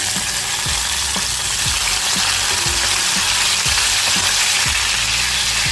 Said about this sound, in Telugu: నూనె వేసుకుందాం ఆ తర్వాత పచ్చిమిర్చి వేసుకుందాం